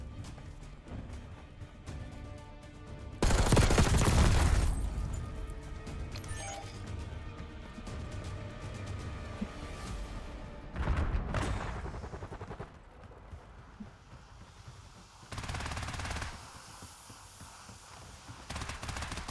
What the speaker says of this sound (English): Going in with hand cannon.